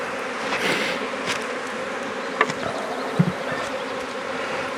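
Honey bees buzzing around an open hive, a steady dense drone of many insects close by, with a couple of faint knocks and no talking.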